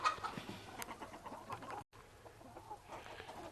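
Chickens cluck and murmur in a large backyard pen, several birds at once in short scattered calls at moderate distance, soft and continuous.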